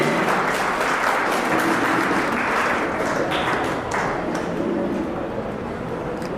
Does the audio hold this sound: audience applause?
yes